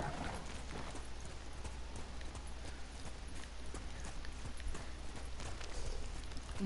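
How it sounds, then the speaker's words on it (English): Horse hooves clip-clop steadily through the Ghost of Tsushima video game, a faint, even run of beats with no talking in the clip. "Get back here, horse."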